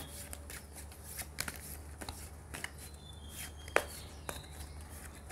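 Oracle cards are shuffled by hand for a reading, soft riffling and flicking strokes in irregular bursts close by, with occasional sharper taps and no talk over them.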